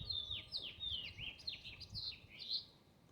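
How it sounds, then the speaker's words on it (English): A small bird in a nest box gives a rapid series of thin, high chirps, repeated steadily and heard fairly faint against a quiet outdoor background. "there is a bird in there right now, and it is making a nest"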